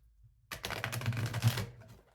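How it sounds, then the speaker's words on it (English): A deck of tarot cards is shuffled close by in one quick burst of soft, papery riffling that lasts just over a second, framed by quiet before and after. "I'm just going to concentrate on shuffling the cards, getting them in the right positions"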